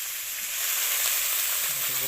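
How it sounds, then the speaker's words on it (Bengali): Cabbage and potato fry in a kadai after a spice tempering, giving a loud, steady, close sizzle that runs unbroken throughout with no talking. "এই আলু আর এই বাঁধাকপিটা আমি ভাজা করব"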